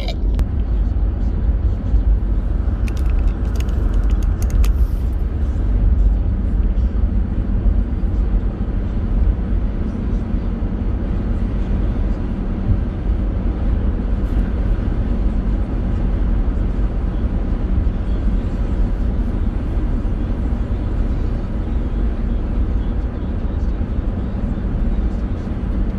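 Inside a moving car, a steady low rumble of engine and road noise carries on for the whole stretch, with a brief faint rattle early on and no one speaking.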